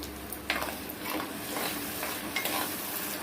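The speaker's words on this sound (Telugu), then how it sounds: "టమాటా పేస్ట్ వేసేస్తున్నానండి." Steady sizzling in a pan with intermittent spoon scrapes as thick tomato paste fries and gets stirred, close up and no voices.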